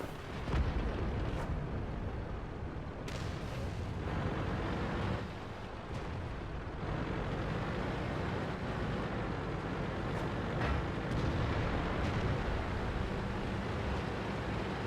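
A Soviet T-34-85 Rudy tank fires its main gun in the World of Tanks video game, each loud, dull blast falling over a constant rumbling battle backdrop with several sharp bursts spread across the stretch.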